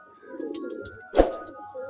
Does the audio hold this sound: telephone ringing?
no